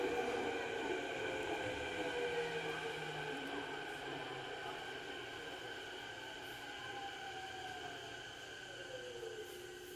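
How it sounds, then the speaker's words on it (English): A train passes by at a steady, moderate distance, its sustained rumble carrying bright tonal whines and squeals that slowly shift in pitch over about ten seconds, with no talk. "Here comes the train."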